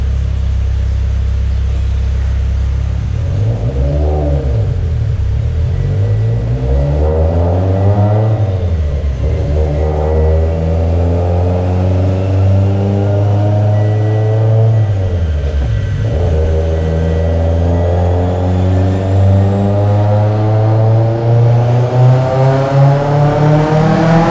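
A Mitsubishi EVO X with a Garrett G35-1050 turbo, Kelford cams and H-beam rods revs on a dyno at around 35 psi boost, its loud engine note rising and falling in sweeps before a long sustained pull.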